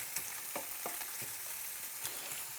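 An Oktoberfest sausage fries in a pan with a steady broadband sizzle, punctuated by several soft scraping or stirring knocks at irregular intervals, fairly close and moderately quiet, with no voices.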